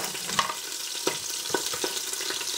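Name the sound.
onions and garlic sautéing in olive oil in a pot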